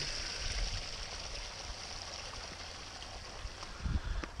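A creek-like stream on a homestead, swollen after heavy rain, flows steadily with a constant close rushing and trickling of water and a couple of soft low bumps near the end.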